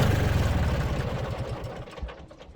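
A small farm tractor's engine runs at a steady idle with a low, rhythmic chug, close and loud, easing off slightly toward the end with some light mechanical clatter.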